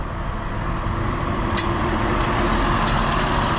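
A 2019 Newmar Dutchstar 3717 diesel pusher motorhome under 38 ft with 1,250 lb-ft of torque, its engine a steady loud rumble with road noise as it accelerates, heard from inside the coach.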